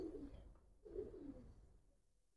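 Jira Giribaz pigeons give soft, low cooing calls in two or three rounded bursts, fairly quiet and close, with no talking over them.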